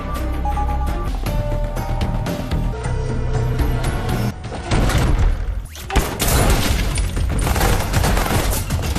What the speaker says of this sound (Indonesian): terjadi baku tembak menegangkan di dalam kamar dengan F yang bingung harus memihak kepada siapa